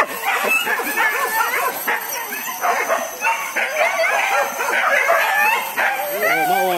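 A dog barks repeatedly in quick, excited bursts mixed with yips and whimpering howls, close and loud, with faint voices in the background.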